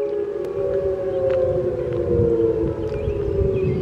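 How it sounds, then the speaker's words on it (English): Civil defense warning sirens at a nuclear power plant sound during a planned monthly test, a loud, steady wailing tone holding for the whole stretch with no speech over it. "It's a planned test of the sirens."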